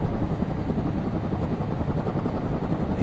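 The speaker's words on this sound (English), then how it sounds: "The chopper's very close this time." Helicopter flying close overhead: a loud, dense, continuous rotor rumble with a fast chopping pulse, steady throughout, with no voices over it.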